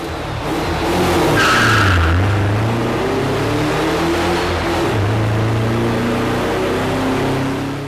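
A camper van's loud engine, fitted with a makeshift silencer, revs hard and climbs through the gears in a simulated quarter-mile run, pitch rising and dropping with each shift, sustained at full throttle throughout.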